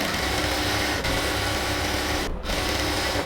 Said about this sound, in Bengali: এরপর এদিক থেকে জাস্ট আস্তে আস্তে ধরে ধরে সেলাইটা করতেছি আমরা